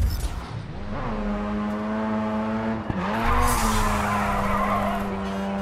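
A car drifting through a touge mountain course in the racing video game Grid 2, with a sustained engine drone and loud, continuous tire squeal that briefly dips mid-slide and then screeches on, close and alone.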